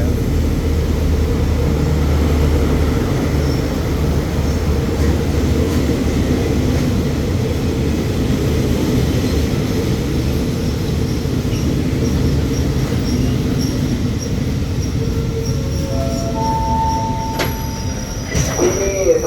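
An express train, number 172, pulls into Ban Pong station in Thailand with a loud, sustained rumble of rolling wheels, then brakes and wheels squeal in rising tones near the end as it stops.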